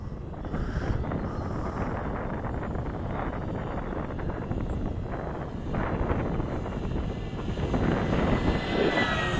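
An FMS 2000 Beaver RC model airplane in flight on a windy day, a steady engine drone under heavy wind buffeting on the microphone.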